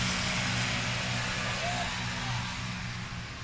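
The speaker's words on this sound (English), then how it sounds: "That new engine sounds pretty hefty." A new aircraft engine runs at a Heritage STOL short takeoff and landing competition in Virginia Beach, giving a steady, loud, low droning hum with a layer of broadband noise that holds for the whole stretch.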